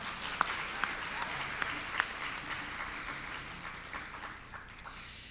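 A seated audience at the 2022 Saskatchewan Sport Awards applauds steadily, dense clapping from a large crowd holding at an even level with a few sharper individual claps standing out.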